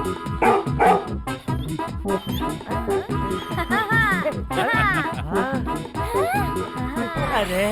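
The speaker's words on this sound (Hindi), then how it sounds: "अरे ये कुत्ता" A dog barks repeatedly in a Hindi animated comedy, lively rhythmic barks and yips mixed with excited voices and background music.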